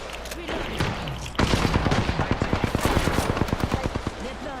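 Rapid automatic gunfire from an Apex Legends match rattles in a fast, steady burst of sharp shots, loud and close, layered over game ambience and earlier scattered shots, with no one speaking.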